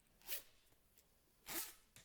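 Two quick zipper pulls on a cheap, generic Shein hoodie costing about 11 euros, each a short, close, rasping zip separated by a pause, with a faint tick between them.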